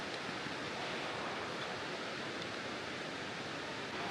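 Netravathi waterfall in the rainy Western Ghats of Karnataka roars as a constant, broad rushing wash of falling water, heard alone and fairly faint.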